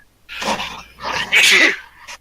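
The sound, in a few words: sneeze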